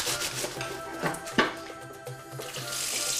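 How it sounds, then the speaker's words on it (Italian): Running water rinses shredded savoy cabbage in a sink, giving a continuous splashing hiss broken by the rustle of handled leaves and one sharper knock. "la laviamo in abbondante acqua fresca, risciacquandola più volte"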